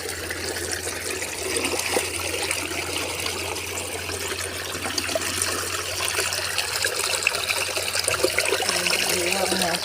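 Water trickling and gurgling into a small channel outdoors, a steady soft wash of flowing water with a faint low hum beneath.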